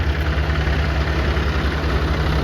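A tractor engine idles at a salt farm, a loud, steady low diesel chug with a regular throbbing pulse, close by and with no talk over it.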